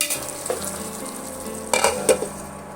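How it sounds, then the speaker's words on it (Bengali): Potato dopiaza sizzles softly in a pan while a metal spatula stirs it, making a few scraping knocks, and two sharper clinks come near the end. "আমি খুন্তি দিয়ে এইভাবে একবার নেড়ে দেব"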